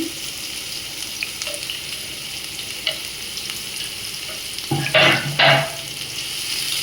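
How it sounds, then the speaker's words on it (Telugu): Onions sizzle steadily in hot oil in a pan while a chicken fry is being prepared, with a couple of louder stirring scrapes near the end and no talking. "ఆనియన్స్ బ్రౌన్ కలర్ వచ్చే వరకు ఫ్రై చేసుకోవాలి"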